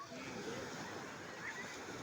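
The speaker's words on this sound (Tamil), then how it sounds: "எப்பயும் தண்ணி இப்படி தான் அடிச்சுட்டே இருக்கும்." Sea waves wash steadily onto the shore in a soft, continuous rushing surge, fairly faint, with a hint of distant voices in the background.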